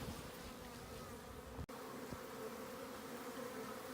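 Honeybees of a newly installed nucleus colony hum in a constant, close buzzing drone, broken only by a brief click; no voices are heard.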